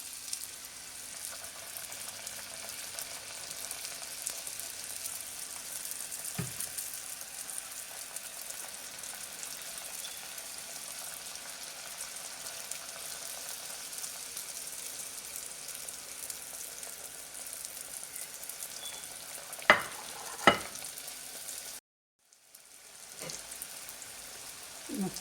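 Namak pare dough pieces frying in hot oil over a low flame, a soft continuous bubbling hiss with a few sharp clicks near the end and a brief cut to silence.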